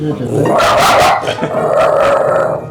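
A small dog barks indoors, several sharp yipping barks close to the microphone in two short bursts, with people talking around it.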